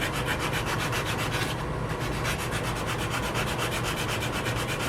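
Sandpaper rubbing back and forth over a small wooden wolf block for a Native American flute, a close, steady rhythmic scratching with even strokes throughout.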